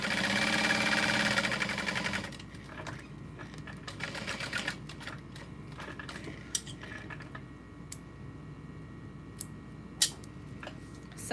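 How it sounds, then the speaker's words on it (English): A sewing machine stitching along all four sides of a small folded fabric handle for a backpack, a fast steady whir in the opening seconds, followed by quieter clinks and handling noises. "And I sew along all 4 sides."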